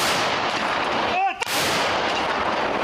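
Continuous loud broadband roar with a brief dip in the middle, like heavy artillery fire echoing, close and sustained, from guns firing in long rain.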